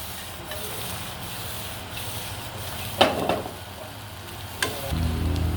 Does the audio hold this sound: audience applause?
no